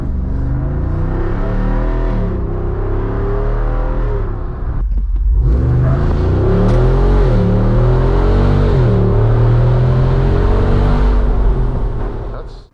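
Loud, sustained engine revving from a 2024 Jeep Wrangler Rubicon 392 Final Edition, with a deep rumbling roar that dips briefly partway through and then climbs again, close and continuous with no talking.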